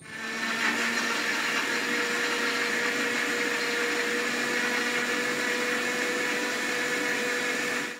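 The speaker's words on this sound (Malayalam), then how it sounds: "ഇനി നമുക്കിത് നന്നായിട്ട് ഇങ്ങോട്ട് മിക്സിയിൽ അടിച്ചു കൊണ്ടുവരാം." A kitchen mixer whirs loud and steady as it blends mango, sugar and milk into a shake, a continuous motor drone that holds evenly before cutting off abruptly at the end.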